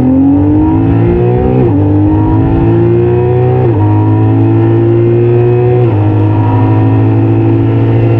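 Six-cylinder engine of a 2022 BMW K 1600 GTL touring motorcycle, close and loud, accelerating through several gears with steady rising pitch and brief dips at each shift.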